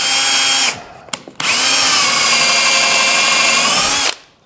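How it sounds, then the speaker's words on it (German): Power drill with a pilot and countersink bit boring screw holes in wood for a children's desk build, two loud sustained whining runs close by, separated by a brief pause with a short blip. "wir nehmen jetzt den Vorbohrer und Senker"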